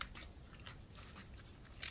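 Faint, steady crunching and chewing, a coyote biting into chicken close by with soft irregular crackles and no voices.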